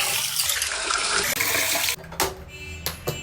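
Rice being rinsed by hand in a bowl of water, a continuous loud rush and slosh of water that cuts off sharply, followed by a few brief splashes and drips.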